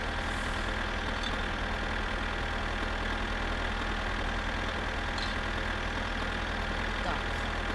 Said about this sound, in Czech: ten traktor jede jakože fakt rychle